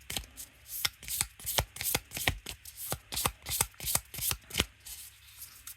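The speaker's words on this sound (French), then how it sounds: "On va tirer une petite carte" Oracle cards riffled and shuffled by hand in a quick, regular rhythm of sharp papery flicks, close and quiet, with no talking.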